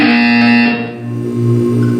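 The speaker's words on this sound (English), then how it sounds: "You will hear a buzzer." A loud, harsh electronic buzzer tone from the game Portal 2, held for about two seconds, shifting pitch partway through, alone with no talking.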